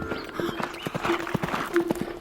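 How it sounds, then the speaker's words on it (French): A galloping horse gives quick, repeated clip-clop hoofbeats in a steady rhythm, close and fairly loud, with a faint musical tone sustained beneath. "C'est le cheval noir qui galope le soir"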